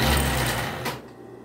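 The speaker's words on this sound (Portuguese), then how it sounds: "Vou passar a costura de um lado inteiro, fechando de um lado," A sewing machine runs steadily, stitching a full side seam on children's clothing fabric, its close mechanical whir loud for about a second before stopping.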